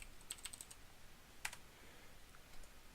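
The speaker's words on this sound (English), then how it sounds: "Let me just type that in as..." Quiet typing on a computer keyboard during a Minecraft session: a quick burst of light key clicks, one sharper keystroke in the middle, then a few soft taps near the end, all faint and close.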